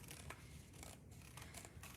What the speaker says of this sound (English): now I'm going to cut